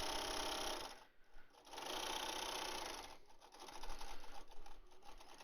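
An industrial sewing machine stitches fabric mask straps in fast, steady runs of loud close mechanical whirring, with short easing pauses between bursts.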